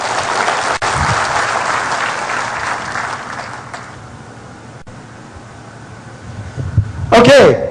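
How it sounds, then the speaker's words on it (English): Loud applause from a seminar audience fills the opening seconds, then fades into quieter room noise, with a brief burst of talk and laughter near the end. "Okay, that was a gigantic round of applause."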